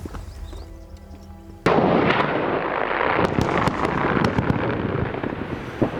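A mining blast set off by pressing two controller fire buttons, a sudden heavy boom that cuts in and rolls on as a long rumbling roar with scattered sharp cracks and debris.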